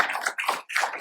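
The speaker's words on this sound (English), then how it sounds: "you can clap for them" Audience at an innovation summit panel applauds, short bursts of clapping broken by brief gaps, moderately loud and close.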